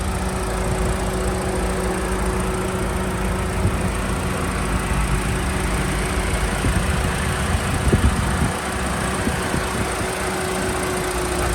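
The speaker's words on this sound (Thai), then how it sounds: "เครื่องยนต์เดินนิ่มเรียบนะครับ" A BMW X1 engine idles with the hood open, a steady smooth hum with a constant low tone, recorded close and unbroken, with a few faint clicks and knocks near the middle.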